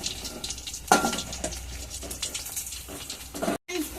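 Pieces of chicken 65 frying in hot oil give a steady crackling sizzle close by, with louder bursts of spatter and a brief stir near the end, and no voice over it.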